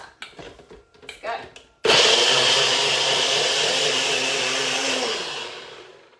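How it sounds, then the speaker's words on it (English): A NutriBullet blender whirs loudly as it blends a smoothie, starting abruptly after a few seconds of clatter and handling, holding a steady high whine, then easing down as it stops. "So you can whack this in a blender. I use a NutriBillet."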